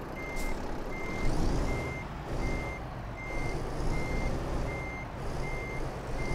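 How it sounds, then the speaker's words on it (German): Truck reversing alarm in Euro Truck Simulator 2 while backing up to hitch a trailer: a steady series of about nine evenly spaced beeps over a low engine rumble, with no talking. "Komm, wir hängen die Fracht noch dran."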